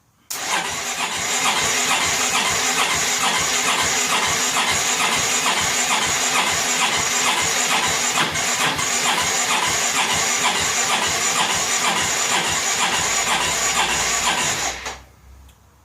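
A 2002 Honda Reflex scooter in rough condition cranking over and over on the starter without catching, a loud, steady mechanical whirring that runs nearly fifteen seconds before cutting off abruptly.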